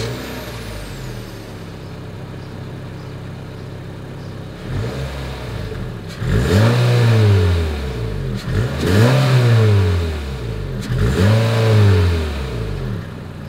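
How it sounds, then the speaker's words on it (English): A 2021 Honda HR-V exhaust idles steadily, then revs three times in quick succession, each blip rising and falling, close and fairly loud with no talk. "Here is that exhaust clip."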